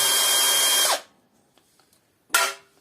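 A power tool whirs loudly close by while backing screws out of a coffee machine water pump, then cuts off, leaving small clicks and handling noises before another short burst.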